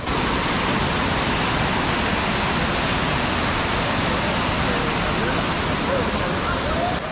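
Aruvikuzhy waterfall in Kottayam, Kerala roars as a loud, steady broadband rush of falling water, constant and close with no pauses.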